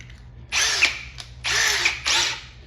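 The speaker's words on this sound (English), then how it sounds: "But let's drill a 5/16." A power drill boring a 5/16-inch hole into metal, for an air tank, in three separate bursts, each a loud, close whine that stops abruptly before starting again. No voices.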